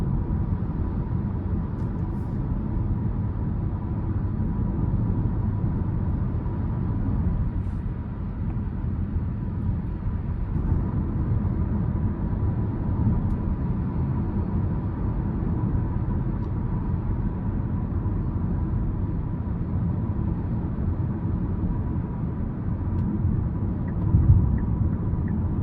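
Steady low road and engine rumble inside a 2022 Hyundai Kona SEL cabin while driving, a continuous muted drone with no talking and little variation throughout.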